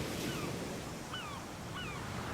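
Ocean waves surge and echo inside Fingal's Cave, a basalt sea cave with a high arched roof on a Scottish island. A steady, close wash of surf fills the sound, with a few faint, high chirping calls above it.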